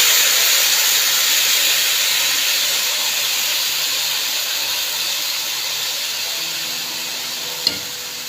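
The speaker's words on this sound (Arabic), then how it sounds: "هبدا بقى احط الشوربه بتاعتي للرز" Broth poured onto rice in a pot, a steady broad hiss and sizzle holding through the whole stretch and easing slightly toward the end, with one faint tap near the close and no voices.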